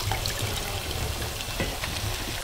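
Soaked poha (flattened rice) being drained of water in a kitchen: a soft, close trickle and dribble of water running off, steady and gentle for a couple of seconds, no speech.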